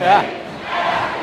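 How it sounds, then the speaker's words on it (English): Packed gym crowd at a high school boys varsity basketball game belting out the party chant, a short, loud burst of massed shouting voices that rises and then settles into a steady roar. "My favorite chant, the party chant."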